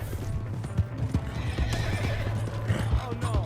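A horse in the Red Dead Redemption 2 video game neighs loudly while hooves clip-clop in a quick, uneven rhythm close by, with a voice briefly audible over the scene.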